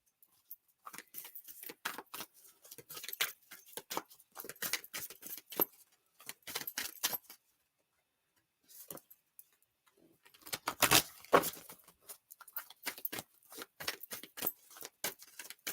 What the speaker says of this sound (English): You see how much I shuffle these decks